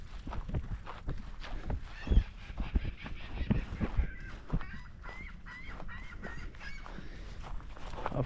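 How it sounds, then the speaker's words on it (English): Seagulls call along a beach at a tidal cove in New Brunswick, a series of short nasal honking cries repeating irregularly, mid-distance over faint ambient noise and scattered thumps. "Of course, seagulls everywhere."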